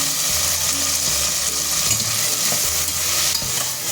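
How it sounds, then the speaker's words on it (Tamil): Onions and tomatoes sautéing in a pan for a prawn biryani give off a steady close sizzle and fry hiss, with soft scraping stirs through it and no voices. "வெங்காயம் தக்காளி 2மே நல்லா வதங்கி வந்திருக்கு"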